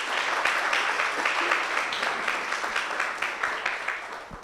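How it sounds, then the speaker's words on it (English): Audience at a university research week three-minute thesis competition applauds after a presentation, a steady, even wash of clapping from many hands throughout. "Let's give Monica a round of applause."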